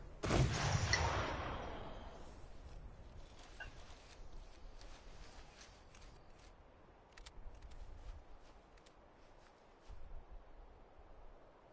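A gunfire volley cracks out loud and close on command, then a long, fading rumble follows with faint scattered clicks and shuffling afterward.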